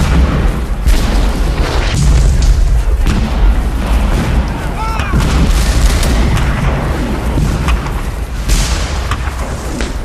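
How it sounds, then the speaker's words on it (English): Confederate cannon fire in a Civil War artillery barrage at the Battle of Shiloh: loud, continuous booming with repeated heavy blasts layered over a rumbling roar, and a voice narrating throughout. "For more than an hour, Confederate guns pound the Federal center."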